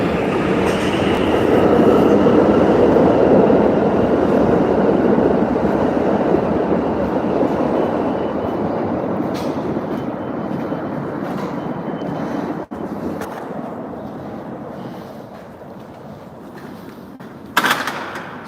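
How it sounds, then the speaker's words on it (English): A subway train rumbles loudly through an underground station, its roar slowly fading as it pulls away, with a sharp clank and a brief squeal of wheels near the end. "I got off the train."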